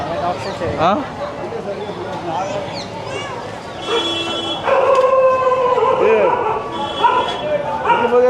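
Dog barking, yipping and whimpering at a temple town in Tiruchendur, India, mixed into busy crowd talk and street noise, with several short barks in the first seconds.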